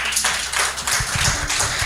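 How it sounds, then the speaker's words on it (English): A brief round of applause for event organizers, a dense wash of many hands clapping steadily at a moderate distance, with a few lower thumps mixed in. "we give a very good round of applause to all the organizers of this platform"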